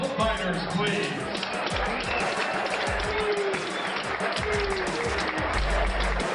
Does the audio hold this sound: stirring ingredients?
no